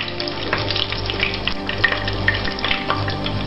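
Sweet wine hits a hot frying pan holding sea bass, setting off a steady, close sizzle and bubbling hiss with soft spattering crackles throughout.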